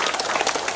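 Applause rises from an audience at a Pongal festival prize giving for sanitation workers, where a councillor takes first prize in the men's balloon-bursting game. The clapping is dense and continuous but brief.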